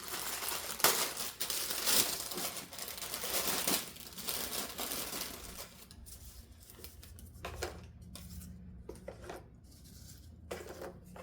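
Soda crackers crinkle and rustle as they are unwrapped, handled and laid into the bottom of a dish for a homemade dessert, close crisp crackling with sharp clicks that thin into sparse taps toward the end.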